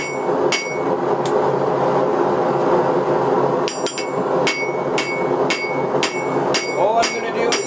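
A hammer strikes steel on an anvil to forge the bevel of a dagger, ringing metallic blows that are loud and close, landing at an irregular pace, quick in places, over a steady workshop background.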